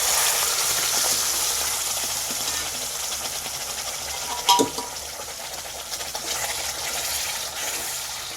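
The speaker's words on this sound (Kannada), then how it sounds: "ಇದು ಚೆನ್ನಾಗಿ ಹಸಿ ವಾಸನೆ ಹೋಗುವವರೆಗೂ ಫ್ರೈ ಮಾಡ್ಕೋಬೇಕು" A green chili and ginger paste fries in a hot pan for Hyderabadi mixed dal tadka. A steady, close sizzle and hiss fills the whole stretch, with a brief louder stirring scrape about midway.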